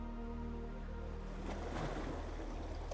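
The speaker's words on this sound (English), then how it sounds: "At Devil's Kitchen, a deep indentation in the cliffs where the waves churn into a frothing white lather" Ocean waves churn against the cliffs of Devil's Kitchen on the rugged Maine coast, a constant, heavy, close roar of surf with a surge of frothing water partway through.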